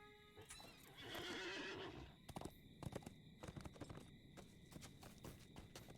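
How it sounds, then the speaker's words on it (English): A war steed mount in Lord of the Rings Online gives a loud whinny, then its hooves clip-clop in a quick, uneven rhythm close by, with no talk over it. "Let's get on our ice skating war steed again."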